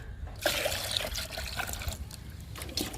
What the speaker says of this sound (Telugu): ఇంకొక మగ్గు పోస్తున్నానండి